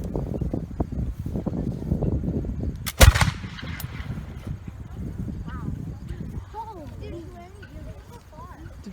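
A single musket shot cracks out loud and close, a sharp burst standing above a busy outdoor background of voices and movement.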